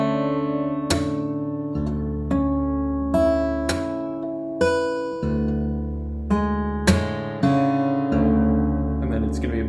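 An acoustic guitar played percussively with plucks, taps, slaps and left-hand pull-offs, a sequence of about eight ringing chords and sharp attacks, each decaying under the next, close and clear with no talking.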